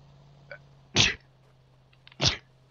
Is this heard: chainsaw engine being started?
no